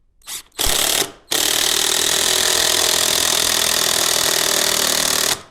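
A cordless drill drives 8-inch timber lock screws into wood with a loud ratcheting, grinding whir, starting with two short bursts and then one long continuous run that stops abruptly, close up, with no talking.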